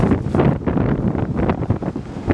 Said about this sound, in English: The wind, literally. It's the wind, dude.